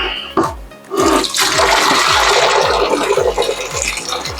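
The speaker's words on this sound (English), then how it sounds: "Got the pasta on here, I put my strainer on top of it. Go ahead and drain all that water out." Hot pasta water pours out through a strainer in a home kitchen, a loud rushing, splashing gush that starts abruptly and keeps flowing steadily, with rhythmic low gurgling pulses underneath.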